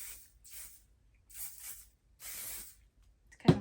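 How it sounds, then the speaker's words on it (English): Hairspray mists onto freshly crimped, scrunched hair in several short hissing bursts, each lasting about half a second, with a sharper sound at the very end. "I'm just gonna put some hairspray"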